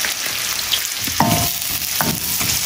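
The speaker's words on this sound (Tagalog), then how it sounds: "Sama natin sa pagigisa ng sibuyas at bawang natin ang ating tomato paste." Onion, garlic and tomato paste sautéing in hot oil in a pan for pork menudo, a steady loud sizzle with a few soft stirring scrapes, no talk.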